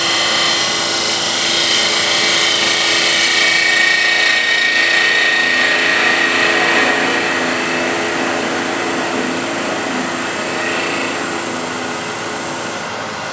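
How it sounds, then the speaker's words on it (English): A wood lathe spins steadily while a spindle gouge cleans up end grain on a coffee or tea container, giving a continuous close whirring hiss with a faint high scraping tone and no talking. "I'll spindle gouge and just clean up the end grain"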